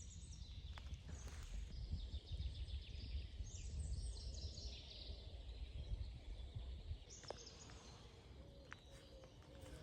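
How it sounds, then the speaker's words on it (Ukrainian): Faint birdsong in a spring forest, a few thin chirps and trills rising over a quiet outdoor background with soft rustling and footsteps nearby. "Послухати спів пташок"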